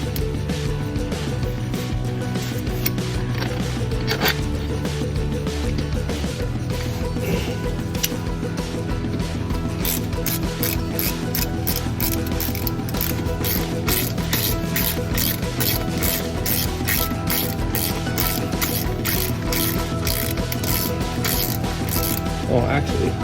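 A ratchet clicks in quick repeated bursts while bolts are tightened on an Audi S5 transmission, close mechanical clatter with talking in the background.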